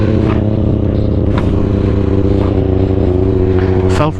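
A motorcycle engine holds a loud, steady, close drone with rich low harmonics during a wheelie, with slight rises in pitch and a short dip near the end.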